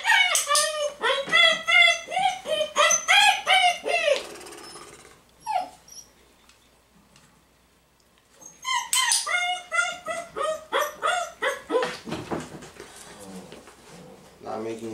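A 5.5-week-old German Shepherd puppy whimpers and whines in a playpen, repeated high cries in rapid bursts, a few seconds' pause, then more whimpering, loud and close.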